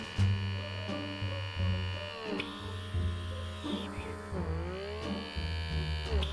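A handheld blackhead vacuum pore cleaner runs at its highest setting, giving a steady close electric hum and buzz whose pitch wavers and dips as the suction nozzle moves against the skin.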